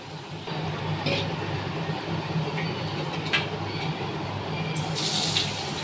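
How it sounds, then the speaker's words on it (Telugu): Tamarind juice is poured into a crab curry cooking in a pan, giving a steady, soft liquid rush with a few brief splashes, fairly quiet and without talk. "ఇప్పుడు ఇందులో కొంచెం అంతా చింతపండు పులుసు పోసుకుందాము."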